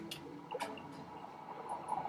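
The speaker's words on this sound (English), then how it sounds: "Axe in the water." An axe splashing into water in the video game Raft Wars gives a few soft, faint splashy drips and liquid squishes, scattered over a quiet background.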